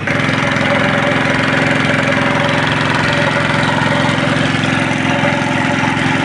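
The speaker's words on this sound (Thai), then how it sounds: "เดี๋ยวติดเครื่องก่อนครับ" An old generator engine runs at a steady, loud idle, its continuous chugging hum and rhythmic knocking carrying on evenly throughout with no talking.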